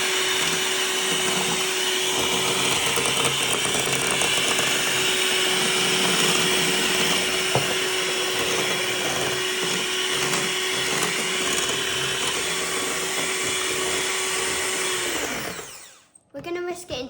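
An electric whisk whips an apple marshmallow mixture with gelatin in a cool bowl, giving a loud, continuous high whine and whirr that runs steadily and then winds down and stops near the end.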